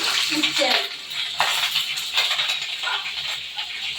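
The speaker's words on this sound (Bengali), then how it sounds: "এবার আমি করলাগুলো একটু ভেজে" Bitter gourd pieces frying in hot oil in a pan, giving a continuous bright, hissing sizzle with small pops and a faint clink of a utensil, close by, with a brief soft voice near the start.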